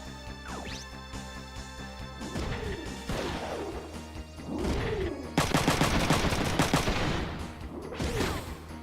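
AK-51 machine gun fire in the Front Mission 3 video game: repeated bursts of crashing gunfire over a steady game soundscape, with swooping effects and a dense, loud rapid-fire stretch near the end.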